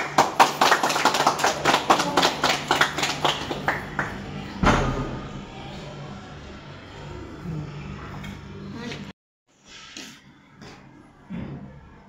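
Applause from an audience at a school student-led conference event, starting as quick rhythmic claps that break into a burst of scattered clapping, fading out, then a few isolated claps after a brief silence.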